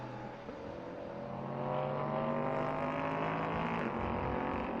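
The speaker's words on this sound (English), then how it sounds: "there's the beautiful sound of the Duquesne D08 coming through turn number 2 and into the braking zone of turn number 3" A Duqueine D08 prototype race car passes through turn 2 toward the braking zone of turn 3 at Slovakia Ring during an FIA CEZ Endurance race, its engine note a steady, rising harmonic drone, heard from a distance without voices.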